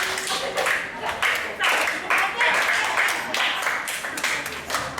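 A classroom of students clapping their hands together at once, a dense, continuous patter of claps with some voices mixed in.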